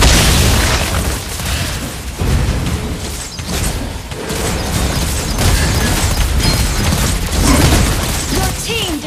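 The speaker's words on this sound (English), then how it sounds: "Your team destroyed a turret." Video game battle as a turret is destroyed, dense loud booms, bursts and crashing effects layered continuously with no clear pause.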